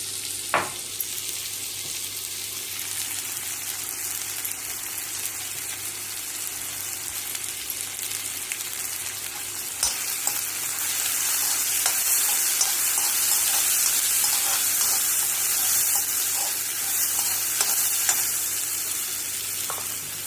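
Turmeric stirred into masala frying in a pan for an egg and cabbage curry, a steady sizzle with scattered scraping and stirring knocks, growing slightly louder midway.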